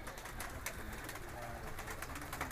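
Parwazi pigeons in Faisalabad coo softly in low repeated calls over a steady background noise.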